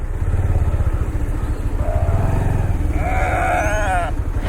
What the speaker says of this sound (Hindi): तो इसमें भेड़ बकरियां मिक्स हैं।